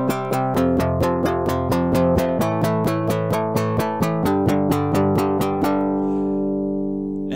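Programmed guitar notes, all at identical velocity, repeat in a steady, evenly spaced stream with a mechanical, computerized feel. They continue for several seconds before one last note rings out alone.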